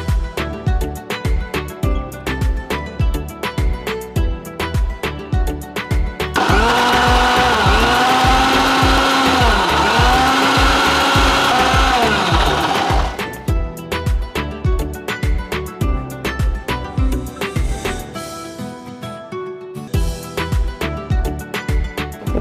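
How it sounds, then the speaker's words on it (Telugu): A wet grinder churns millet batter with pieces of ginger and salt, a loud steady mechanical whir in a surge of several seconds, framed by rhythmic clattering and thumping before and after. "సజ్జలు కాబట్టి కొంచెం స్లోగా గ్రైండ్ అవుతుంది"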